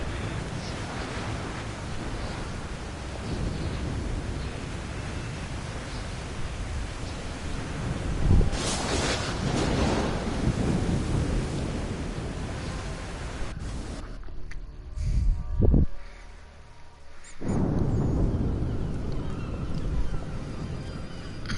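A stormy sea in Assassin's Creed 3 gives a steady, loud rush of wind, rain and crashing waves. Two heavier booming swells break through the roar, and a short, quieter lull comes near the end.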